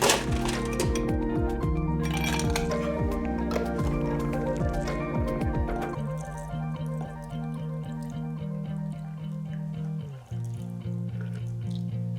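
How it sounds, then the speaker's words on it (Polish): A freshly shaken cocktail pours into a glass of fresh ice, with liquid splashing and ice cubes clinking and settling, close and steady, then the pour tapers off. "nasz świeży, orzeźwiający koktajl przelewam do szklanki ze świeżym lodem"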